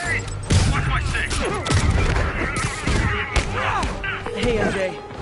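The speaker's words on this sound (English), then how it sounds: "Incoming grenade!" Grenade explosion in Spider-Man PS4 amid a fight with thugs: heavy booms, thuds and impacts over constant gunfire, with shouting voices throughout.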